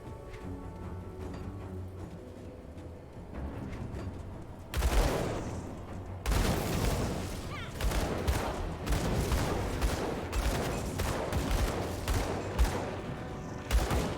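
Dual pistol gunfire in the Grim Dawn video game, rapid bursts of loud shots in quick irregular volleys that start after a quieter stretch and continue densely to the end.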